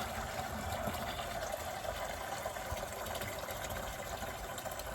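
Water pouring steadily into a chick waterer with cups, a continuous close gush and trickle with no talking.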